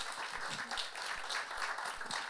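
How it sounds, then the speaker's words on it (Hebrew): Audience applause at an album launch for a Hebrew song collection, a steady dense wash of many hands clapping at moderate volume throughout, with no break. "הרבה מחיאות כפיים"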